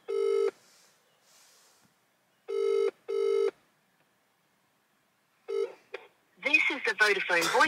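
A phone ringback tone on a Vodafone call repeats in short buzzing bursts, evenly spaced, heard close through a handset, and then a recorded voicemail voice starts speaking.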